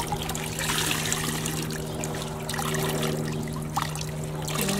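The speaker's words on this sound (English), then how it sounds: "squeezing out that excess water" Water trickling and dribbling steadily as excess liquid is squeezed from 200 grams of indigo-dyed yarn, a close continuous wet splashing over a low steady hum.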